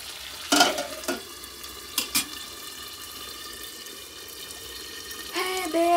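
Small fish stirring and frying in a pan, a soft steady sizzle broken by a few sharp clanks and scrapes of the spoon, with a brief whining tone near the end.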